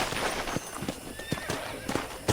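Hoofbeats clip-clop at a steady walk while a horse whinnies, in a Red Dead Redemption ranch scene on Nintendo Switch, with faint ambient sound behind.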